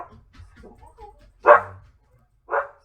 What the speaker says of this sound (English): Sorry about my dogs in the background here.